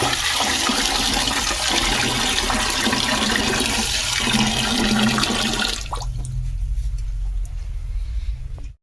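Potatoes and ivy gourd are washed in water in a village kitchen, a loud continuous rush of running, splashing water for most of the stretch that then drops away to a quieter background hum.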